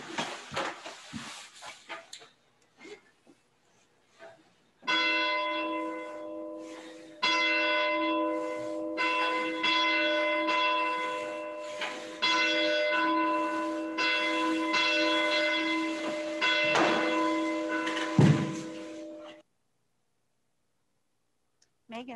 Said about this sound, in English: begin our worship with the ringing of the church bell